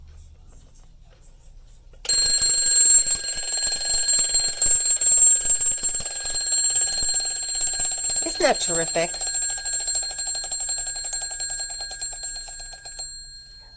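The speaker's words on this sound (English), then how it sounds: "how you set the alarm." A 1930s Westclox mechanical alarm clock rings loudly and continuously for about eleven seconds in a bright, steady metallic bell clatter, then stops abruptly. A voice briefly speaks over the ringing partway through.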